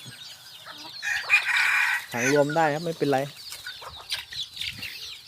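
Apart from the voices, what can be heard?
bantam chickens clucking and crowing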